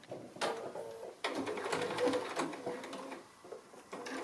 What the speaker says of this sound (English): I'm just going to stitch right across there through the cord to hold all that in there